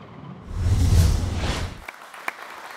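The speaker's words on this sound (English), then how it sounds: "This round of applause was meant for the outstanding achievements regarding the memorial locomotive" A short burst of applause at a celebration honoring work on a memorial locomotive, swelling quickly and fading within about two seconds, followed by a few scattered claps.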